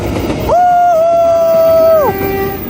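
A KLB special charter train passes close by, its horn sounding one long steady blast of about a second and a half over rumbling rail noise, with people talking excitedly around it.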